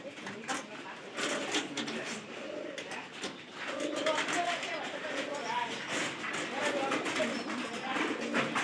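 Pigeons coo almost continuously in a loft, their soft throaty calls layered and overlapping at close range while someone talks over them.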